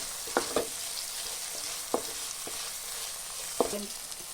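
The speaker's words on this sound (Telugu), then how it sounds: "చూడండి, ఆనియన్స్, టమాటాలు బాగా వేగినాయి." Onions, tomatoes and ginger fry in a pan with a steady sizzling hiss, punctuated by a handful of short clacks and scrapes from a spoon stirring the mixture.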